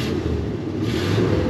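A 1965 Oldsmobile Ninety Eight V8 engine, already warm, cranks and catches, then idles with a steady, loud low rumble close by. No one speaks.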